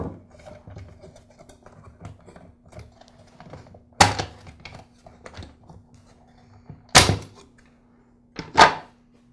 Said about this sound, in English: I'll use a screwdriver to help split the two halves of the motor housing